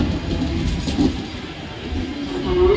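A Mumbai suburban local train rumbles steadily at close range at a station platform, low wheel noise with a faint rising squeal near the end and no talking.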